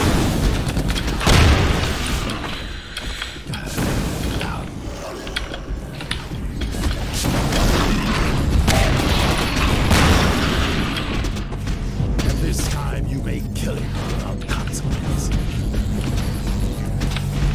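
Barrels blowing up in Half-Life 2: Episode Two, with a sharp boom early on followed by a long stretch of rumbling, clanking mechanical game noise and debris.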